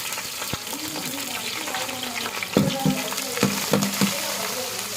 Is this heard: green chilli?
yes